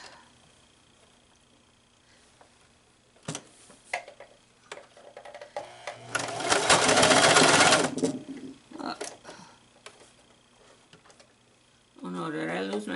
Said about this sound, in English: Now we're going to go top stitch around the whole thing.